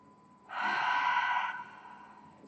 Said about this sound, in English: Last big breath.